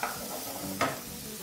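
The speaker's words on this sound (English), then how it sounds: "to a hot pan, I'm going to add some mince. And we're just going to use our wooden spoon to break that down a little bit" Beef mince fries in a hot pan with a soft, steady sizzle as a wooden spoon stirs and breaks it up. One brief scrape stands out, and the whole sound is quiet and close.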